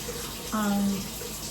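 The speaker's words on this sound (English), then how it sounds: "I'm going to throw a little bit of water at the bottom so they don't stick." Water splashes into the bottom of a pan holding pork chops, a short close pour lasting under half a second against a quiet room.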